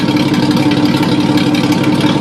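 A Ford AU car engine idling through a new 3-inch exhaust pipe, a steady loud, throbbing drone with a rough low rumble, close and continuous, no talk.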